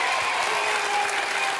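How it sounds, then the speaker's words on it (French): Studio audience at a French television talent show applauding a contestant, a steady dense wash of clapping throughout, loud and even with no pauses. "Il faut applaudir Stéphane"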